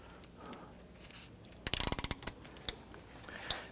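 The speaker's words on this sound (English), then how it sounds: "Now you can use an impact driver, or you can use your ratchet like I'm doing." A ratchet with a 12mm socket and extension loosens the battery clamp bolt on a 2011-2015 Kia Sorento 2.4L, giving a quick close burst of sharp clicks followed by a few isolated clicks.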